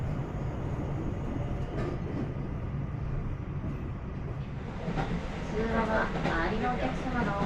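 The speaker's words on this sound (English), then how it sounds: "I'm on the train now" A Mizushima Railway Christmas Train runs along at dawn with a steady low rumble and hum of wheels and carriage. Someone talks over it near the end.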